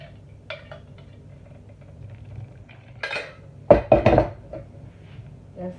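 A spoon stirs moi moi bean mixture in a bowl. Faint scraping is followed by a cluster of sharp clinks and knocks against the bowl midway, and the room is otherwise quiet.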